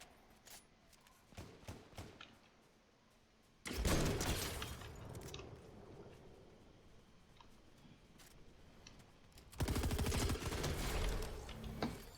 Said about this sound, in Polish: Kto tam strzela?